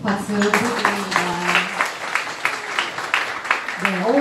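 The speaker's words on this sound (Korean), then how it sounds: "두 분께 다시 한번 박수 부탁드립니다" Church audience applauding a soprano and a baritone after their hymn, with a continuous crackle of many clapping hands throughout and a voice speaking over the applause at the start and again at the end.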